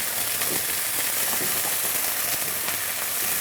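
Onion, garlic and ginger paste frying in a pan for a home-style chicken dish, giving a steady, dense sizzle and crackle throughout with faint spits, no talking.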